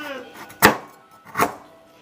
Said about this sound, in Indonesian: Lalu iris gula merah secukupnya.